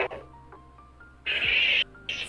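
A loud, sustained meow-like cry lasting about half a second, followed by a shorter second call, over a low background hum.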